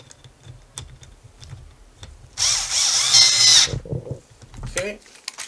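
Power screwdriver driving screws into a Losi 5ive T RC car bumper, one sustained whirring burst of about a second, loud and close, followed by brief handling clicks, with a quiet voice around it.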